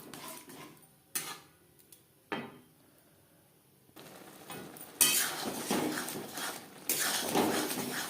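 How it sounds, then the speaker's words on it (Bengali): Ghugni masala is stirred in a pan over a medium flame, with scattered metallic clinks and scrapes at first, then denser, louder scraping in the second half. "চার মিনিট মিডিয়াম ফ্লেমে নাড়াচাড়া করে নেব"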